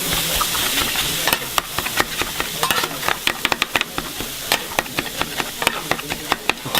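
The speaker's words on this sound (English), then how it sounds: "they bring the rice and they make fried rice right in front of you on the hot stone again" Kimchi fried rice being cooked on a hot stone at a pork belly grill restaurant, with a steady close sizzle and frequent rapid scraping, tapping strokes of a spatula against the stone.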